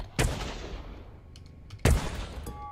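Two loud gunshots fire in a video game, about a second and a half apart, each followed by a booming, slowly fading tail.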